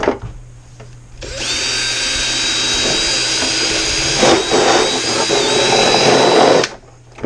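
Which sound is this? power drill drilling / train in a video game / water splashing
power drill drilling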